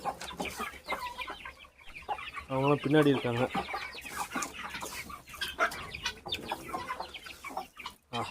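Chickens clucking and calling near and far, including grey hens and guinea fowl, with a person talking over them throughout.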